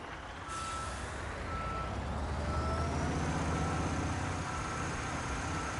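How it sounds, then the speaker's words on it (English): A concrete lorry reverses in Construction Simulator, its engine droning as a truck-style hiss rises after a brief start, with faint tonal whines carrying across; the reversing beeps stay soft beneath the engine noise. "There's my concrete lorry."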